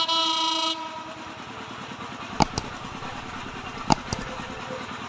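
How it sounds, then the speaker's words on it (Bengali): A train approaches along the railway line near Joydebpur station, its steady rumble and wheel clatter running throughout, with a brief horn tone at the start and two sharp metallic bangs midway. "সামনে ট্রেন আসার শব্দ শোনা যাচ্ছে"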